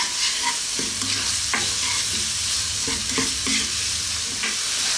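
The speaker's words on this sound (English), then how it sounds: "saute this for about 3 minutes." Pasta sauce ingredients seasoned with salt and black pepper sauté over above-medium heat in a pan, a steady close sizzle broken by repeated scraping stirs and clatters of the utensil.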